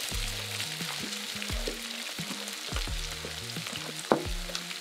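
Carrots sauté in a pan with a steady sizzle, while stirring adds repeated scraping, tapping strokes and a sharp clink near the end; close and moderately loud, with no voices.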